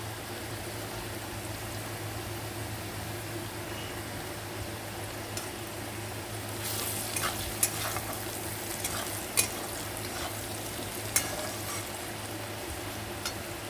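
Soft, steady sizzling of onion, garlic and turmeric frying in a pan, with a few light clicks and scrapes of stirring now and then.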